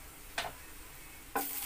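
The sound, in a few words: homemade lentil dumplings (bori) frying in white oil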